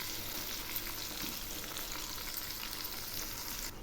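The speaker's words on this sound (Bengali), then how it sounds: "এখন আমি মাংসগুলো দিয়ে দিচ্ছি। একটু নেড়ে দিচ্ছি।" Meat pieces go into hot oil tempered with cumin, left from frying onions for parda biryani, and are stirred; a steady, close, dense sizzle runs throughout with faint scraping, no voices.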